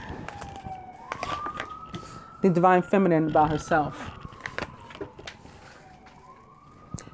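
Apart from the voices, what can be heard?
emergency vehicle sirens passing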